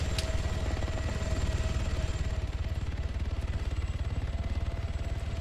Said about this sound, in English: this chopper moves in to try to provide some live fire support